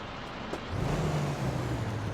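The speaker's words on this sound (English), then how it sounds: "that engine audio's loud" A truck engine idles and then rumbles louder from about the midpoint in a trucking simulation game, a low steady drone with a brief hiss near the start.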